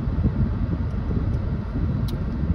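A vehicle creeping along at about 2 km/h on a Peloponnese track, its engine a steady low rumble close by with no talk over it.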